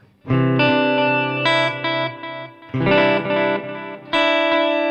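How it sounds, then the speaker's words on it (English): Electric guitar notes and chords through a vintage digital delay, with repeating echoes that carry a slight warbling chorus shimmer, ringing out in bursts with short gaps. "Which has like a little bit of chorusing, very slight chorusing in the repeats"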